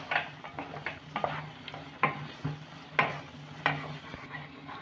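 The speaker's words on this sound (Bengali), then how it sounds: "আবার আমি নেড়ে চেড়ে ভালো করে মিশিয়ে নেব।" Semolina halwa with fried cashews and raisins is stirred in a pan, with a spoon scraping and tapping the metal in irregular strokes under a faint sizzle, close and fairly quiet, no talking.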